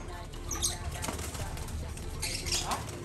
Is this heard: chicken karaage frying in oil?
no